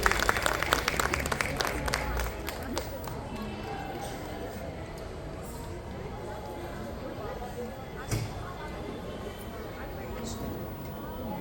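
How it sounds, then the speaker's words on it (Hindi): An audience claps loudly for girls performing a prayer dance at a school annual day, the dense applause strongest at the start and then holding steady, with crowd noise mixed in. "जोरदार तालियां"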